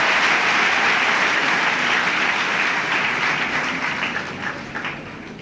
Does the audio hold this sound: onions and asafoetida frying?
no